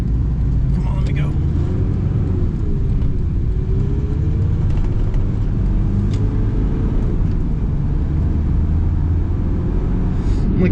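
A 1993 Mitsubishi Strada turbo diesel truck drives along with a steady, loud, low engine rumble and road noise throughout, the drone rising and falling slightly with shifting.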